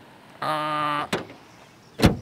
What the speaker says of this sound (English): Then door closing sound, not quite solid